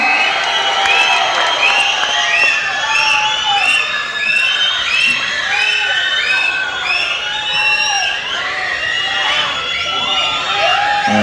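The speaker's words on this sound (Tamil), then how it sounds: "நல்ல கைத்தட்டலோட நம்ம வீட்டு பிள்ளைனா எம்ஜிஆர், எங்க வீட்டு பிள்ளைனா வேற யாரு, அண்ணன் எஸ்கே அவர்களை பேச அழைக்கிறோம்." Audience at a Tamil film audio launch for Garudan cheering, whistling and shouting loudly and continuously, a dense crowd roar with scattered applause that holds steady throughout.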